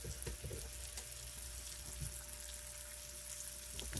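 Minced garlic frying in butter in a pan makes a faint, steady sizzle with a few soft taps, quiet and alone.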